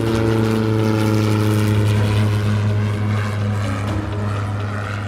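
A propeller airplane powers up for takeoff on runway 5 at Fort Wayne, its engine droning loud and steady with a strong buzzing hum that holds throughout.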